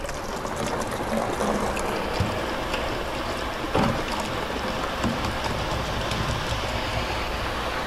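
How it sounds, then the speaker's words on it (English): A CM20 continuous mixer runs at a steady, loud mechanical drone with rattling and clattering, a constant churning texture with a few brief knocks and no speech. "So now we're going to turn it on and simply check the consistency of the material."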